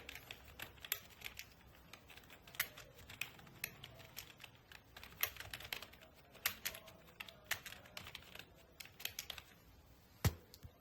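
Close, quiet typing on a computer keyboard, a steady scatter of light key clicks in short irregular bursts, ending with one sharper tap near the end, with no speech over it.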